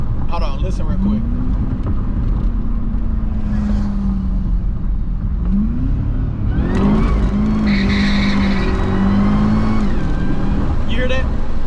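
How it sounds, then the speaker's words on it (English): A supercharged Cadillac CTS-V with a cold air intake revs nearby, its blower whine rising and falling in two long pulls over a steady engine drone, with people talking over it. "You hear that? That's Jasmine's blower."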